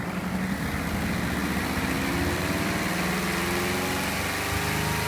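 A washing machine in a 1991 Fleetwood Southwind RV running and spinning fast, a loud steady motor hum with vibration and a rising whine as the drum speeds up.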